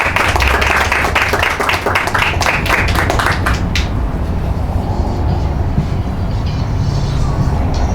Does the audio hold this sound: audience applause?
yes